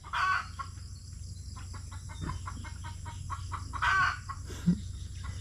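A flock of chickens clucks softly in a rapid, regular patter, with a few sharper calls standing out at the start and near the end, no talking.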